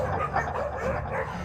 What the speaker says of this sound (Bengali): হঠাৎ পাড়ার কুকুরগুলো পাগলের মতো চিৎকার করে উঠল